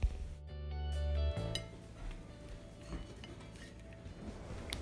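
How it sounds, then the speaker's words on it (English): Cooked rainbow trout plated over rice, with a few light clinks of dishes and cutlery after a short loud start, close by and fairly quiet. "Time to plate it up over some rice and enjoy."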